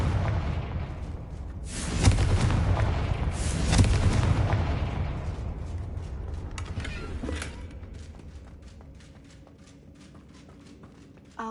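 Confringo spell blasts in the video game Hogwarts Legacy, two loud booming explosions about two seconds apart with rumbling, creaking debris trailing off into quieter ambience, no talk.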